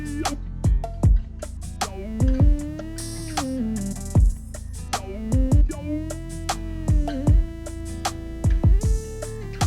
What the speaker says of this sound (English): So first thing I did was add this talkbox layer, and I'm kind of playing like a solo, and it sounds like this.